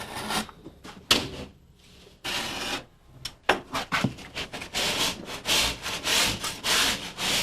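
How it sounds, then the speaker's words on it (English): A utility knife scoring and cutting drywall along a chalk line, with scraping and rasping strokes of varying length, some sharp bursts and a run of steady strokes toward the end, recorded close with no talking. "We mark the angle with a chalk line and cut with a utility knife."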